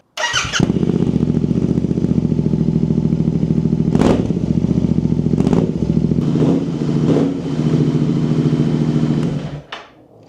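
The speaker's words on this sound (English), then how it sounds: "I love the sound of the exhaust without the baffles" A Royal Enfield Continental GT 650 with its exhaust baffles removed idles loud and close, a steady throbbing rumble with a few sharp blips of the throttle, alone, before the engine cuts off at the end.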